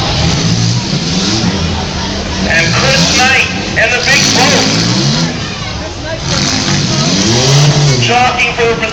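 Demolition derby cars roar and rev continuously in a rain-soaked night heat at the Skowhegan State Fair, a loud, dense engine rumble with crashing hits, under an excited announcer talking over the noise.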